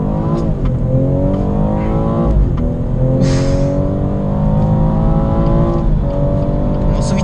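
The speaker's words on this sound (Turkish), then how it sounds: "Nasıl vites atıyor? 7000 devre kadar soluksuz hızlanıyor arkadaşlar." A BMW M240i xDrive with 340 hp launches hard under launch control, its engine note climbing loudly through each gear with quick shifts toward 7000 rpm, a steady, close in-car roar throughout.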